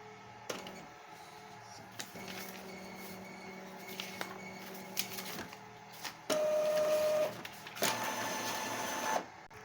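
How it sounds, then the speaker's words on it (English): Epson L3150 inkjet printer running a head-cleaning cycle: quiet whirring motors and pump, clicks and ticks, then louder sustained mechanical hums in stages, close and isolated. "Now I will do head cleaning once again after clearing the waste ink pipe."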